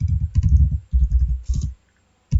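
Quick bursts of clicks come from typing on a computer keyboard, entering a command. Two close runs of keystrokes are followed by a short silent pause, then one more burst.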